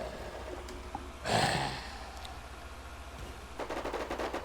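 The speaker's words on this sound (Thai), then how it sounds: "ผมไปตามเสียงปืนนะครับ" Burst of gunfire in a shooting video game, one loud volley near the start followed later by a faster rattling string of shots, with a steady low engine-like background hum.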